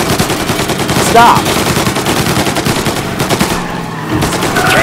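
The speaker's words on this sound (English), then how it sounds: "You hear gunfire and you want to get in the way." Rapid machine-gun bursts and scattered gunshots from a firefight in the Mafia remake video game ring out loud and continuous throughout, with a brief shouted voice partway through.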